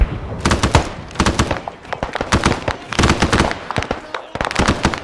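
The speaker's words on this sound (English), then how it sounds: "Alpha covering fire, let's go." Covering fire in a military video game, dense rapid bursts of rifle and machine-gun shots crackling in quick succession, loud and close with short pauses between volleys.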